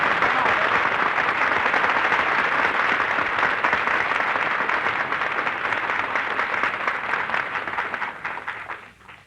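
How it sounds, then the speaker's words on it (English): Studio audience at a radio comedy broadcast bursting into loud, sustained applause, a thick roar of clapping that holds steady and then fades out near the end. "That terrific applause you just heard, folks, is breaking Benny's heart."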